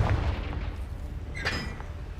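A Confringo fire spell blasting in Hogwarts Legacy, heard as a single sharp explosive boom after a low rumble, loud and close with no talking.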